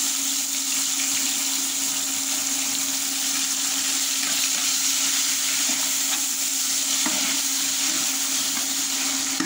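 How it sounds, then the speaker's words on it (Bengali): Onion paste fries in hot oil in a home kitchen, a steady, even sizzle that continues unbroken with no talking. "পেঁয়াজটা ভেজে নেবো"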